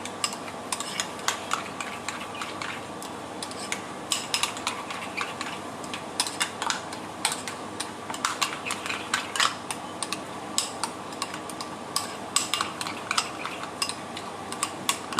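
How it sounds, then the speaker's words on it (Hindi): A spoon stirs and scrapes a mayo-based sauce seasoned with a pinch of oregano in a bowl, giving steady close clinking and scraping with no talking. "और अब हमको इसको अच्छे से मिक्स कर लेना है"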